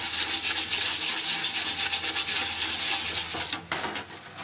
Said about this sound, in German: Spülen.